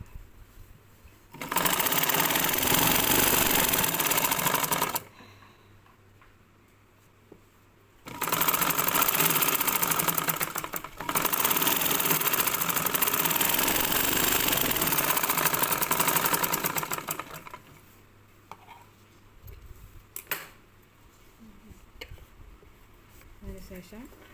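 An electric sewing machine stitches blouse fabric in loud, continuous bursts of a few seconds each, separated by pauses with quiet handling sounds and soft talk.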